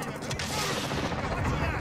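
Dense, rapid machine gun fire rattles continuously and loudly in the Modern Warfare campaign, a steady burst with no pauses, layered with sharp mechanical clatter.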